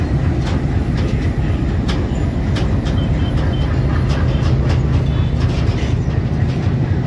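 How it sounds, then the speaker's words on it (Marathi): Inside a moving train carriage on the new railway line in Beed, a loud, steady low rumble fills the space with faint repeated clicks and rattles over it, continuous throughout. "आपली ट्रेन चालू झालेली आहे."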